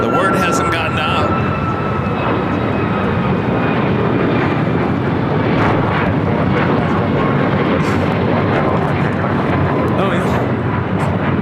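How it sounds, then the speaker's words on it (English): United Airlines Boeing 737 MAX 8 taking off from LAX for Washington Dulles, a loud, sustained jet roar with engine whine tones, briefly under a short spoken remark near the start. "That was United Airlines 2159 taking off to Washington Dulles on a MAX 8."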